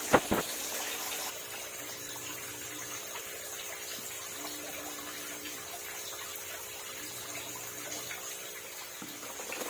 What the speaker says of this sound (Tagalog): At dagdagan po natin ng tubig.